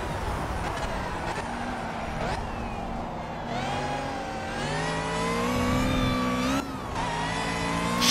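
A race car engine accelerating in Project CARS, a steady loud drone whose pitch climbs and dips through gear changes, with other cars audible and a voice speaking over it.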